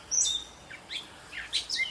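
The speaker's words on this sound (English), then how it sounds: "That's the catbird." Outdoors near a highway, a gray catbird sings a run of short, high, varied chirps and slurred notes, about five or six phrases spaced irregularly, fairly faint and distant with no voices.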